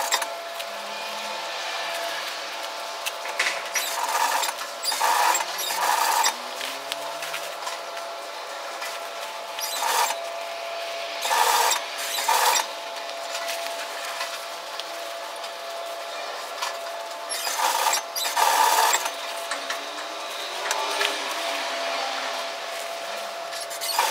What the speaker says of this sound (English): So take your time and stitch that down.